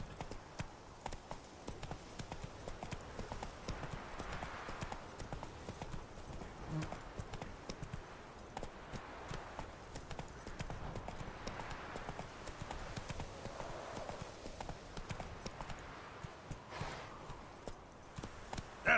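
Roach, a horse in The Witcher 3: Wild Hunt, trots with steady, rhythmic hoof clip-clops that stay moderately close and continuous over a busy game soundscape.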